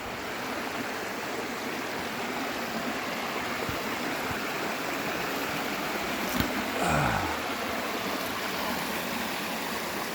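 Steady broadband rush of river water flowing beneath a large log spanning the river, continuous and fairly close, with a brief low thump and sweep partway through and no talk.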